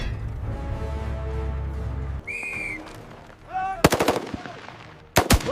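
Small arms fire in a North Africa front tank war video game, sharp close gunshots cracking out after a rumbling engine fades and a rising whistle passes, with a brief second burst near the end.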